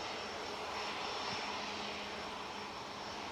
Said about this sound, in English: A couple of Rolls-Royce power plants on this aircraft.